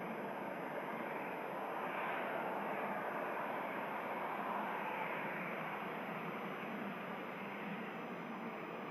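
An EasyJet A320neo airliner taxis or rolls at Manchester Airport, giving a faint, steady, distant engine roar that holds evenly throughout with no voices.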